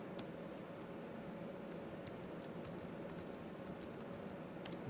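Someone types on a computer keyboard in a quiet room, faint scattered key clicks, sparse at first, then quicker bursts, over a low steady background hum.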